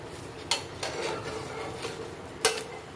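A crispy multigrain dosa being lifted off a tawa griddle with a metal spatula, giving a few sharp clinks and a soft scraping sweep across the hot surface, close and clear without talk.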